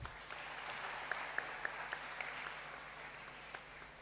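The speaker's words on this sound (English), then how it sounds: "Another round of applause for him." Faint, distant applause from the audience at a pharmacy school white coat ceremony, a soft continuous patter with a few sharper individual claps standing out.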